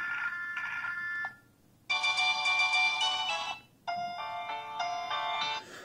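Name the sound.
Emporia Active Glam 4G phone ringtone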